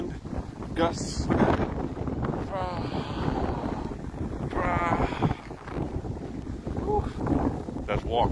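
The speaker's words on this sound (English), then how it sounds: "Here's the wind. Show you the wind. Gusts." Wind gusts buffeting the microphone on a snowy street in Philadelphia, heavy rumbling blasts that rise and fall in waves, with someone talking intermittently over the roar.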